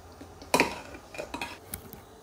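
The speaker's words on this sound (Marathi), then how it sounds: "आता ह्याला छानपैकी मॅशरने, तुमच्याकडे असेल तर मॅश करून घ्या असं." Metal masher clanking against a pan while mashing pav bhaji vegetables and masala, one sharp knock followed by a few lighter scraping taps, close and moderately loud.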